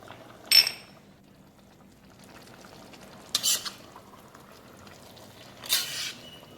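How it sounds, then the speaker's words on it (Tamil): Vegetable biryani rice being gently stirred in a pot, with three short scraping stirs spaced a few seconds apart over a quiet background. "லைட்டாக கிளறி விடுங்க அப்படியே."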